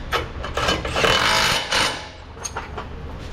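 A power tool whirs in short bursts while tightening nuts and bolts on a body panel of a damaged Toyota FJ Cruiser in a workshop, buzzing steadily with brief pauses between runs.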